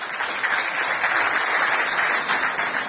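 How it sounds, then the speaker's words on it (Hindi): Steady applause from an audience at an educational convention, dense and sustained throughout, with no talking over it. "थोड़ा तालियों की गड़गड़ाहट है"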